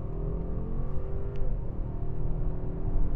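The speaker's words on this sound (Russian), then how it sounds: "Вот она как-то вот так вот разгоняется" A Mercedes-Benz S560 accelerating hard in kickdown from about 50 km/h, its engine note rising steadily and continuously inside the cabin with no talk.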